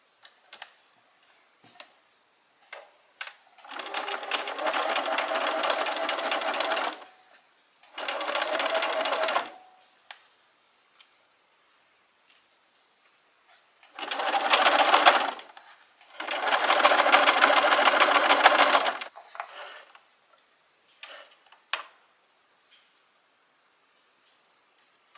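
A sewing machine stitches a T-shirt seam in several bursts of fast, buzzing whir, each lasting a few seconds, separated by quiet pauses broken by small clicks and fabric handling.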